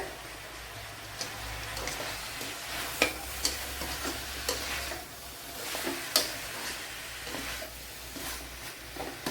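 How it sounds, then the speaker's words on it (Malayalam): Chopped tomatoes frying in a pan for an Andhra-style drumstick sambar, a steady close sizzle with occasional soft clicks and stirring taps, no voices. "ഇനി തക്കാളി ഇട്ട് കൊടുക്കുക."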